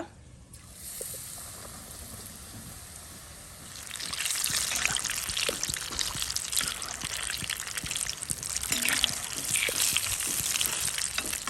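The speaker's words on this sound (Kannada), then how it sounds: "ಮೀಡಿಯಂ ಫ್ಲೇಮಲ್ಲಿ ಇದನ್ನು ಫ್ರೈ ಮಾಡಿದರೆ ಆಯಿತು" Coated stuffed tomato bonda fry in hot oil over a medium flame, a soft sizzle that swells into a dense, steady crackling bubble after a few seconds and keeps going.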